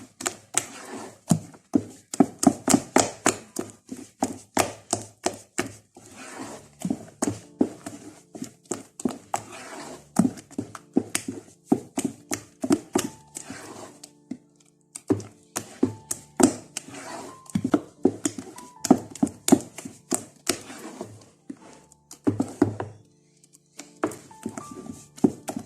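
Oat porridge stirred in a pot, the spoon tapping and knocking against the sides in quick, repeated rhythmic bursts with short pauses, close up and without speech.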